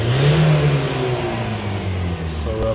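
A 2019 Ford Transit van engine runs close and loud with a steady revving drone that eases slightly in pitch, and a brief higher whir comes near the end.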